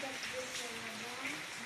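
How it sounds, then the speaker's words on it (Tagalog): Light rain patters steadily in the background while faint voices and tonal sounds drift over it. "Kanina pa umuulan."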